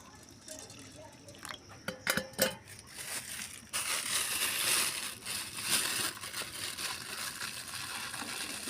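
Red and mung lentils are washed and mashed together by hand in water, giving wet squelching, crunching and dripping sounds, with a few sharp splashes early on and then steady close sloshing.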